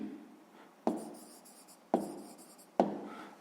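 A pen writes a number in a notebook during a sixth-grade maths exercise, producing three sharp, close strokes about a second apart over a quiet background.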